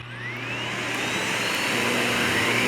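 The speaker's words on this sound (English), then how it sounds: "So, fire the vacuum up." A Miele S7580 Tango upright vacuum cleaner runs on carpet with a steady loud whooshing roar and a rising whine as the motor spins up, close and continuous with no voices.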